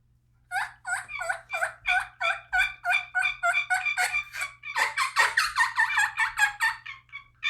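Turkey gobbling in a long rapid series of loud, close, rattling calls, one after another with no pauses, over a faint steady hum.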